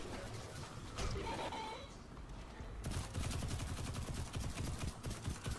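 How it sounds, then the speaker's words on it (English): Rapid gunfire in the sci-fi shooter Destiny 2, dense crackling bursts running steadily through the second half after a quieter stretch, with faint game ambience underneath. "This gun is shooting pepper bullets."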